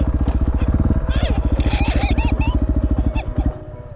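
A motorcycle ridden through a track corner, its engine a steady loud pulsing drone close by for most of the stretch, with voices and whoops over it before the revs drop off near the end.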